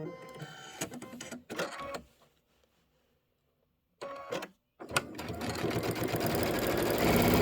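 A sewing machine stitches in the ditch through layered quilt fabric, whirring in short bursts with pauses between them, then running in a longer steady stretch that is close and clear.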